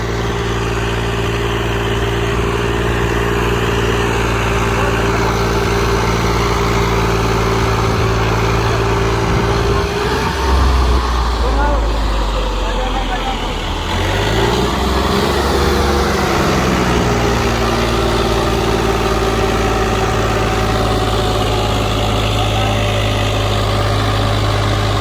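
A tractor engine runs steadily and loud throughout, with a deep idling rumble that briefly surges and roughens midway before settling back.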